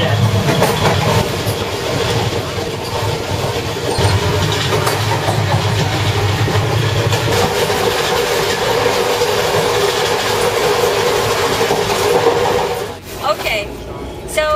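A passenger train rolls along the rails in India, a loud continuous rumble with rattling carriage noise close by, steady throughout and briefly dipping near the end, with no talking.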